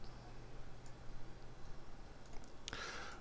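A single sharp computer mouse click lands near the end, against a faint, steady room hum.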